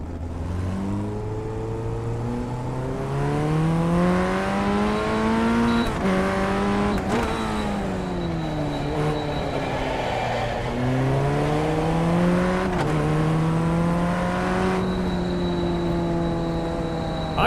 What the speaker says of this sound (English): They adjusted the audio on this car. It sounds different from when I last drove it.